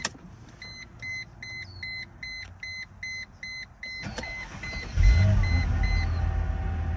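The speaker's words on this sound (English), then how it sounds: "Just turn the car on." A Mercedes wagon is switched on: a series of evenly spaced dashboard chimes sounds first, then the engine catches and settles into a low idle, close and fairly quiet, with no talking.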